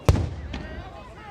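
Fireworks are launched at an outdoor show in Aigle, Switzerland: one sharp, loud burst with a crackling tail and a fainter second pop, heard from a moderate distance.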